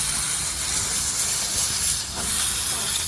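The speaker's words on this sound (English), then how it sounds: "we're going to be blasting some steam into that crack" Loud, steady hiss of steam blasting at close range into a crack in a 1760s mahogany tilt-top tea table, continuous for a few seconds with a brief dip midway.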